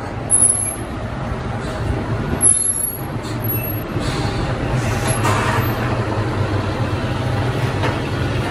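A Nihon Kotsu route bus on the Wakasa line pulls up at a stop, its engine rumbling steadily with sharp high hisses of air brakes near the start and again around the middle, heard up close over a continuous idle.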